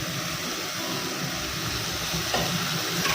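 Tomatoes hit a hot pan of kadake kalu sambar base, a steady, fairly loud sizzle that hisses evenly throughout with a slight rise toward the end.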